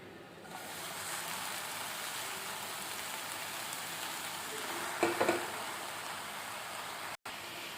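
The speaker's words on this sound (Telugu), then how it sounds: "ఇప్పుడు మనం ఇదే కడాయిలో మనం శుభ్రంగా కడుగు పెట్టుకున్న గోంగూరను కూడా వేసుకుందాం." Washed gongura leaves frying in a kadai for a gongura dried-prawn pickle, a soft continuous sizzle throughout with a brief burst of stirring scrapes near the end.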